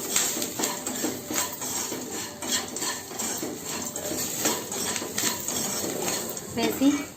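Taro pieces with salt and chili being stirred and fried in a pan, with repeated scraping and clinking of a spatula against metal over a faint background hiss.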